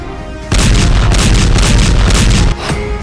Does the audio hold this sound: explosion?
yes